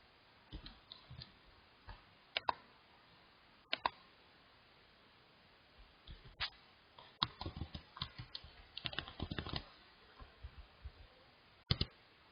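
Computer keyboard typed on while code is written, scattered quiet clicks in short irregular bursts with pauses between, close and alone.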